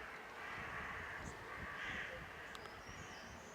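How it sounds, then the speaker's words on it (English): Crows caw and squabble outdoors in Bad Nauheim, Germany, with a few sharp calls poking through a steady wash of wind and distant bird noise at fairly low volume. "If those birds would hush"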